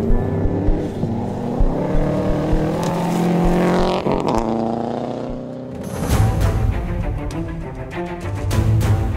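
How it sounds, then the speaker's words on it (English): A Subaru rally car lining up for the Day 2 start of the Oregon Trail Rally, its engine revving and climbing in pitch, easing off, then roaring up again loud and close. "Subaru lines up for the start of Day 2 of the Oregon Trail Rally"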